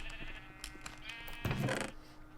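A sheep in Minecraft lets out a single loud, wavering bleat that stands out over quiet in-game background sounds.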